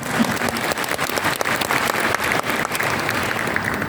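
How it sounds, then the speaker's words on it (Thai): Guests and business partners of Deli Thailand, gathered at the opening ceremony of the Deli Global Synergy 2025 event, clap in a dense, steady round of applause that fills the hall at close range, with no speech over it. "ขอเสียงปรบมือต้อนรับตัวเองกันหน่อยนะคะ ท่านทั้งหลาย"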